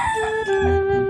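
A rooster crowing in the Minecraft video game, one loud, close cock-a-doodle-doo with a clear rising and held tone, standing alone without talk.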